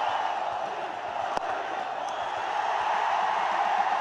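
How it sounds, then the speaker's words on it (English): A large crowd at a cricket match roars with a broad, steady cheer after a big hit for six, with the noise swelling slightly toward the end and a single sharp click partway through. "Big cheer"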